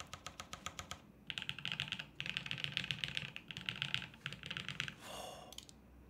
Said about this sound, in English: Tarek, are we listening to the same keyboard?